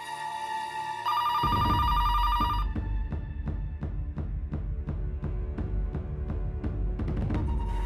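A telephone rings out in a tense domestic setting, its repeating electronic ring pulsing at a steady rhythm and dominating the scene, close and loud, with no talk over it.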